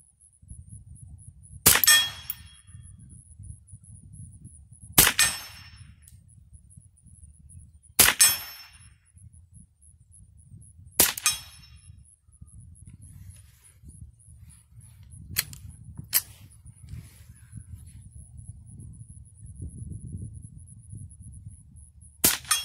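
.22 rifles firing at target practice outdoors, six sharp cracks spaced a few seconds apart over a low steady background hum, each shot loud and close with a brief ringing tail.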